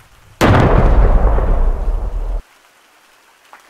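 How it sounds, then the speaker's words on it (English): An airstrike blast in the Gorilla Tag sandbox mod game: one sudden loud, booming explosion with a rumbling tail that cuts off abruptly after about two seconds, followed by near silence. "Yep, it's just an airstrike."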